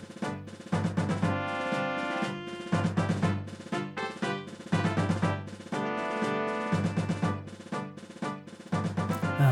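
Upbeat Star Fox 64 opening theme music with layered melodic synth lines and steady rhythmic pulses, playing loudly and continuously with no voices.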